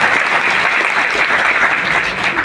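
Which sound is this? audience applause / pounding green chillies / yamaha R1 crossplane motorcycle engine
audience applause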